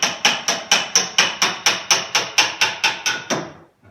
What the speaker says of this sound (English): you might just have to tap it with a hammer